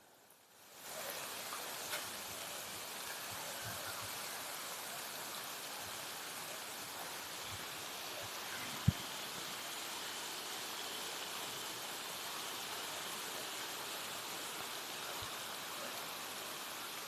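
Heavy rain falls in an open field where Gir cows are grazing, heard as a faint, steady hiss with a few small knocks close to the recorder, and no voices.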